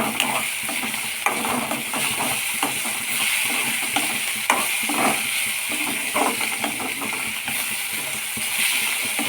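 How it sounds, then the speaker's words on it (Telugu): Salted onions frying in a pan for an egg dish give a steady close sizzle and hiss, with scattered scrapes and taps of a spatula against the pan throughout. "ఉల్లిపాయలకు ఇలా సాల్ట్ వేసేస్తే తొందరగా ఫ్రై అయిపోతుంది."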